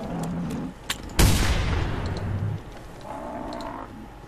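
A single loud gunshot rings out while hunting a Triceratops in TheHunter: Primal, a sharp blast followed by a long rumbling echo that fades over a couple of seconds amid low ambient game noise.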